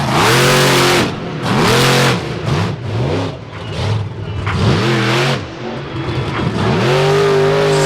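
A monster truck engine revs hard in repeated bursts during a freestyle run at the Fall 4-Wheel Jamboree Nationals in Indianapolis, loud and close, rising and falling with sharp throttle blips and brief dips between pulls.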